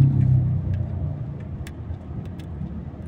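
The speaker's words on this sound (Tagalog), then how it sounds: "Papakita ko po sa inyo yung daloy po ng traffic ko sa kabila, sa may papunta po ng BGC" Road traffic flowing toward BGC from Katipunan, heard as a steady, moderately distant rumble of passing cars and engines, with a few faint higher clicks on top.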